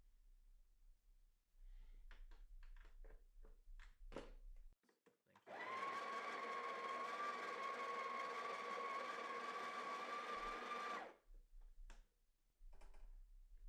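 A Breville Barista Pro grinds coffee beans at a fine setting in a single steady whir lasting several seconds, close and loud, framed by light clicks and handling before and after.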